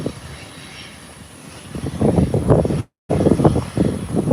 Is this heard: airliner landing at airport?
yes